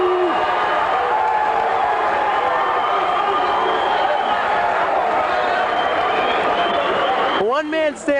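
A crowd at a high school football game between New Rochelle and Scarsdale roars with mixed boos and cheers, a dense and loud wash of voices that holds steady throughout, with a brief sharper cry near the end.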